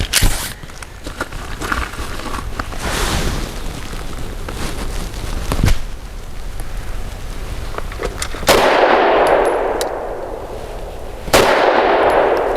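A BUL Armory SAS II Ultralight 3.25 pistol fires lead-free ultralight ammunition outdoors, with several sharp, loud reports spread across the stretch and hiss and clatter between shots.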